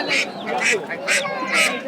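Ducks quack in a crowded outdoor poultry market, giving four loud, harsh calls in a steady rhythm over a constant background of crowd noise.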